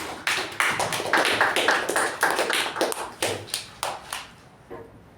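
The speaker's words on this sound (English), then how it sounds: "A big round of applause for him." Audience applause at a Toastmasters club meeting, a round of clapping lasting several seconds, fairly close and steady before thinning into a few separate claps and fading out.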